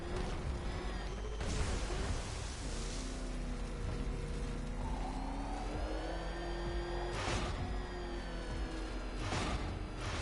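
Batmobile engine in a Batman video game, a steady mid-pitched hum that rises and falls through shifting tones over game music and effects, fairly loud and continuous with a few sharp whooshes.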